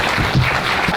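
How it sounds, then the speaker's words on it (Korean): Brief burst of crowd applause at a fight event where Brazilian and Korean fighters face off, a dense wash of clapping with a voice briefly over it. "박수 부탁드리겠습니다."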